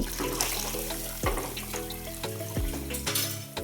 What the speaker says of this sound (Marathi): आता आपण त्यामध्ये कोमट पाणी घालून घेऊ